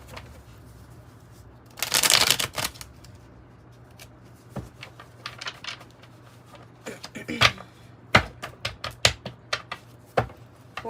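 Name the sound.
shuffling and pulling tarot cards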